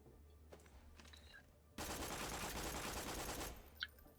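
Dahl Sandhawk SMG from Borderlands 2 fires in a dense sustained burst of gunfire, loud and continuous for about two seconds after a quieter start, then cuts off.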